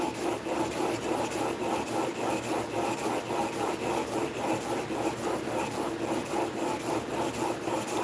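A hand plane, a tuned-up junk tool, shaves wood with a rough, repeated rasping stroke as it cuts a fresh edge, the rhythmic strokes coming close and steady without talk.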